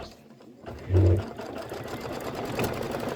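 Embroidery machine stitching a tack-down line on a crossbody bag project, a steady close mechanical hum with a brief louder burst near the start.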